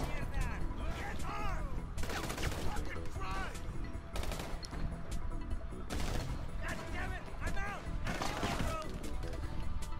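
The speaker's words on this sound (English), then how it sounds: "Stop shooting at me" Rapid bursts of gunfire in GTA 5, dense volleys and machine-gun-like rattles filling the whole stretch, loud and continuous with scattered crashes.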